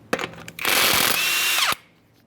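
A power tool spins off a 21mm lug nut from a 2015–2020 Ford F-150 wheel, a few short clicks followed by a loud, steady whirring burst lasting about a second, then stopping abruptly.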